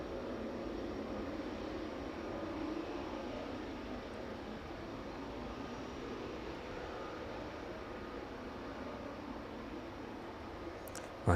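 A steady, distant jet engine roar from an aircraft taxiing at the end of the runway at East Midlands Airport in the evening, a broad even rumble that holds level throughout.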